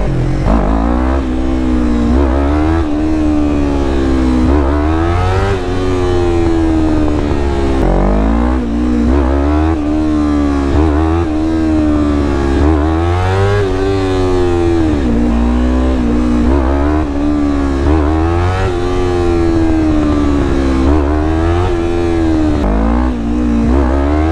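A Yamaha R3 motorcycle engine revs hard again and again during a power wheelie, loud and close, each rise and fall in pitch repeating as the throttle opens and closes, with no speech.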